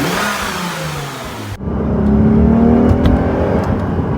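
2007 Lexus IS350 V6 engine revving, a close, loud rising growl that drops abruptly and then climbs again into a sustained whining rev.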